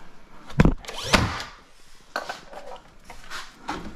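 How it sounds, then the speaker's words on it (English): Hand-hammering nails into small wooden door trim edging in a house being renovated, a few sharp separate knocks ringing near and loud, followed by softer tapping and faint workshop rustle. "Once everything is in place, then we'll nail our small edge."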